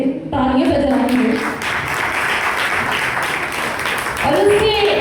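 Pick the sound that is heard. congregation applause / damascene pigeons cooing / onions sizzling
congregation applause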